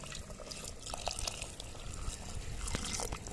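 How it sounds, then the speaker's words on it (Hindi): Boiled water is poured into a simmering curry (salan) to make the gravy: a soft, steady trickle with light splashes and drips, faint and close, with no talking. "तो पानी डाल लेते हैं इसमें भी"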